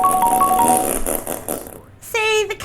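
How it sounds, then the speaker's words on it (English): A fart, short and loud, heard near the end after some speech and a brief pause, with a buzzy, tonal rasp. "See, the cat even thanked you for farting."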